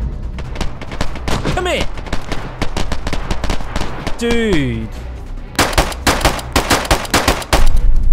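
Rapid Makarov pistol shots crack out in the DayZ Standalone video game, with sharp bursts clustered near the end and short spoken exchanges between them.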